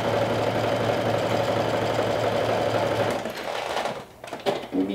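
Sewing machine running a triple stretch stitch at half-inch seam allowance, a close, steady mechanical whirr that slows and stops near the end, followed by a few small handling clicks.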